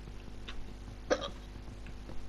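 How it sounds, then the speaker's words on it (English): A person lets out a hiccup while playing Minecraft, one short sharp catch of breath in the middle, with a couple of faint softer sounds around it over a low background hum. "I have hiccups."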